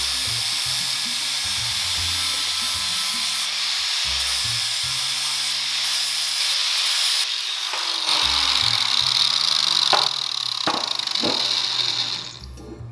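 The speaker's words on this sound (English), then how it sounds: "I'm gonna grind these welds down a little bit" A grinder works down welds on a motorcycle bagger frame, giving a sustained high whine that shifts pitch as the tool bites and eases, then cuts off near the end, with no talking.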